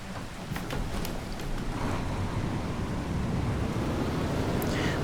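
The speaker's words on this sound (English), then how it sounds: "It's still raining though, isn't it?" Rain falls in the Farming Simulator 25 video game, a steady broadband hiss of downpour that swells slightly and holds throughout, with a few faint clicks and no voices.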